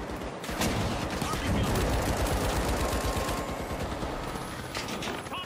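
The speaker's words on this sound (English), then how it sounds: "Frag grenade out." Gunfire and a frag grenade in the video game THE FINALS: a dense, loud burst of rapid shots and crackling fire rattling almost continuously over a few seconds.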